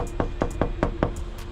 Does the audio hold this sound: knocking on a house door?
yes